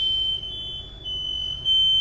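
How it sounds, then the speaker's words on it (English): A household smoke alarm, tripped by burnt cooking, sounds a shrill, piercing electronic tone that holds almost continuously with brief flickers, loud and close over faint background hum. "Ryan's cooking something, so he set the alarms off"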